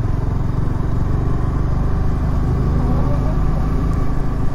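A group of motorcycles rides past on a road near a camping spot, a continuous, loud engine rumble with clattering texture that holds steady throughout.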